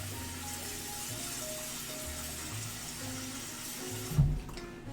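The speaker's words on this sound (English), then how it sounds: "wash a little of that starch off of those potatoes, at least on the outsides" Tap water running steadily into a sink while starch is rinsed off potatoes in a home kitchen, a soft even wash of water throughout with a brief clatter near the end.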